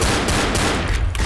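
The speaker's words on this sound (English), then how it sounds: "It is every time we fire the shotgun." Shotgun blasts from the zombie shooter game Left 4 Dead, a loud, dense run of gunfire filling the moment, with game chaos and no clear talk.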